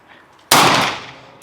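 A single sharp revolver shot on an outdoor shooting range, a sudden loud crack that decays over about a second, with no talking.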